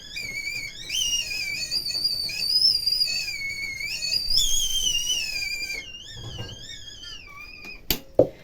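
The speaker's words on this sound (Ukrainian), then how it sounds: "У мене чайник уже, чуєте, вже готовий свистить." A kettle in a Ukrainian village kitchen whistles steadily at a high shrill pitch, wavering slightly in tone, then fades, followed by a couple of sharp clicks.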